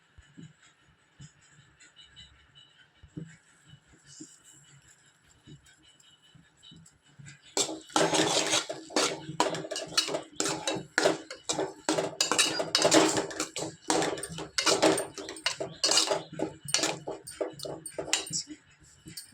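Snake gourd and egg stir-fry is stirred in a pan; after a quiet start with faint sizzling, a spatula scrapes and clanks rapidly and loudly against the pan for the latter half.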